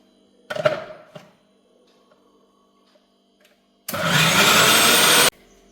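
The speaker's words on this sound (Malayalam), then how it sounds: "നമുക്ക് തേങ്ങ ഇനി ഒന്ന് അരച്ചെടുക്കാം" A mixer grinder whirs loudly in a short burst, grinding coconut paste, after a few clunks and rattles, then cuts off abruptly.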